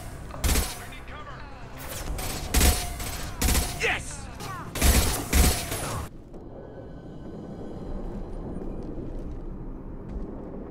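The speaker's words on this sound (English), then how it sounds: "Firing a high impact shot!" Heavy weapon blasts from a video game ring out in several loud bursts over the first six seconds, mixed with game speech and whooshes, then give way to quieter ambient background.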